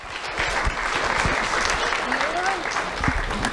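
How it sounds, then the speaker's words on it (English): A room of people claps in a steady, dense round of applause at an awards ceremony, with a voice audible faintly through the clapping. "Let's have a round of applause for Aaron Deaver."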